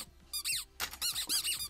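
A modified, high-pitched Minecraft chest-closing sound effect from the video game, heard as a quick series of several sharp squeaky chirps, close and alone.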